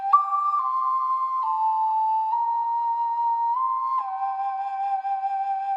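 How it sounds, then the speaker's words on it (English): Soprano ocarina playing Geralt's theme from The Witcher, a pure breathy solo melody of sustained notes moving slowly by small steps, clear and close with no accompaniment. "So I recorded this on a soprano ocarina"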